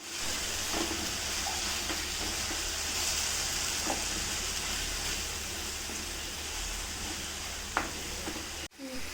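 Continuous sizzle and frying hiss of gongura leaves sautéing in a pan, steady and close, with a few faint stirring clicks scattered throughout.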